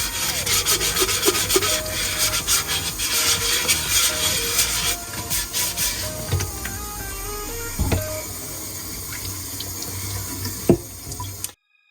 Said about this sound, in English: I'm just sanding around the rim a little to make sure that's all smooth.